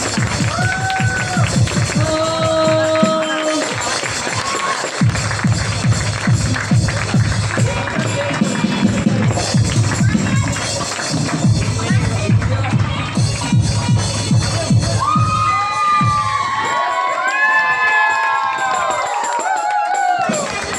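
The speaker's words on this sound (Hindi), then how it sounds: "जोरदार ताली।" Loud, sustained crowd noise at a church wedding during the ring exchange, dense clapping and cheering with overlapping voices and music-like tones rising and falling throughout.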